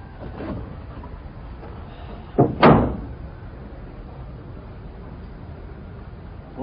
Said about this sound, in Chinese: 把门关上。